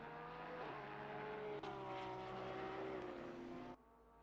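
A Porsche race car circulates on track at Kyalami in Assetto Corsa Competizione, its engine a sustained loud drone with shifting pitch that holds steady before cutting off abruptly near the end.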